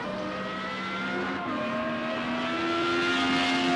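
Formula Renault 3.5 race cars scream around the Algarve circuit, a high-pitched engine drone rising and shifting as cars pass, loud and sustained with layered engine tones.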